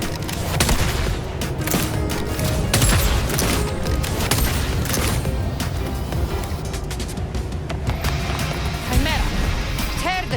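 Rapid shooting and combat effects in the video game Wuthering Waves, a dense continuous barrage of cracks and bursts layered over music, with a voice talking over it throughout.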